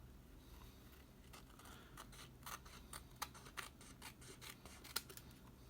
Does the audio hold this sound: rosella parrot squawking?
no